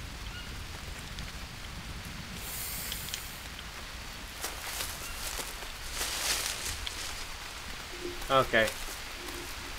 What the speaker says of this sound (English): Oh my god, not another rain.